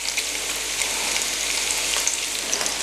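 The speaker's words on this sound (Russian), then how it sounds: "Лук тоже будет жариться полукольцами." Onions cut into half-rings fry in a pan, giving a continuous, close hiss and crackle of sizzling oil that stays even throughout with no talking.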